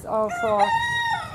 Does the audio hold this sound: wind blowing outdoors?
no